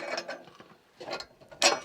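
Short plastic clicks and rattles of a propane quick-disconnect connector being handled and snapped into place on an Ignik FireCan, ending in a sharper click, close by with no talking.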